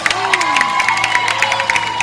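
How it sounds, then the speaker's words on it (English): A live stunt-show crowd cheers and whoops with steady applause and shouts, loud and dense throughout, with a tonal whistle-like sweep and some voices mixed into the noise. "Let's get a big round of applause for our competitors."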